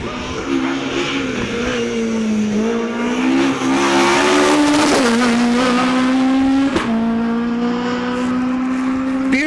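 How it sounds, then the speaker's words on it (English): A high-revving Ford Escort rally car screams past on a stage of the East Riding Stages Rally, its loud engine holding high revs through quick gear changes. "Very high revving Ford Escort."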